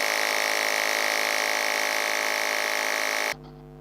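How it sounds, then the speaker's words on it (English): An Air Dragon portable air compressor pump runs with a steady, loud mechanical drone and buzz for several seconds, then cuts off abruptly, leaving a quieter low hum. "So we can actually see this air pump move. Compressing the air faster and stronger to get the job done."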